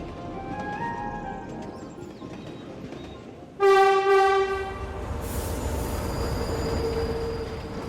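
A train pulls into a station while a farmer waits with 400 kilos of village produce, its horn blaring loudly in a sustained blast midway, followed by rumbling wheels and a steady roar of rolling railcars.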